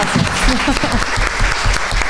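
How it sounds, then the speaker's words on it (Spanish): Audience clapping at a talk, brisk loud applause from a small crowd with a voice briefly audible over it. "Un aplauso"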